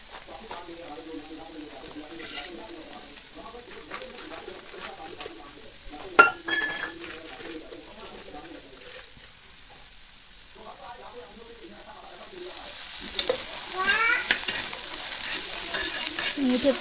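Kardai (safflower leaf) bhaji cooking in a pan, with scraping stirs and clinks of a utensil against the pan, then a louder, steady sizzle building toward the end.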